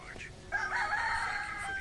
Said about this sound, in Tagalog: dito yung iba nating mga inahin na naglilimlim